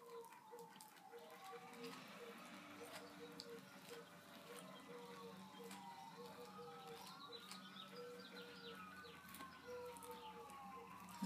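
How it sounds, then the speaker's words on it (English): Emergency vehicle sirens wailing outside, distant and faint, rising and falling in slow sweeps over a low background hum while a bird chirps now and then. "Lots of sirens out there today."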